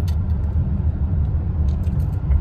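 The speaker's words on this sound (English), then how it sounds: "Look at that dump truck up there." A dump truck rolling past, heard as a steady, loud low-frequency engine rumble and road noise with no break across the whole stretch and no talking.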